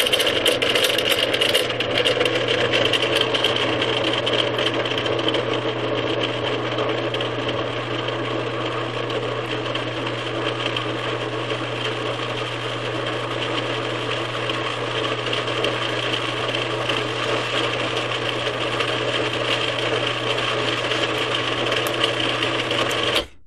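A food processor whirs steadily as it processes half a cup of white flour, a loud, unbroken motor drone lasting the whole time with no talking.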